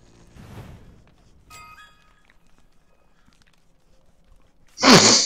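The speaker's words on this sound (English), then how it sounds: "Are you done sneezing now?" A single loud sneeze bursts out near the end after a few quiet seconds of faint breathing and rustling.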